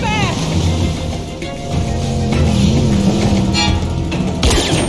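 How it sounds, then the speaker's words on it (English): A fast boat's engine drones in The Walking Dead: Michonne video game, a steady loud motor hum mixed with rushing water and wind, with brief voices and effects over it. "That is a fast boat."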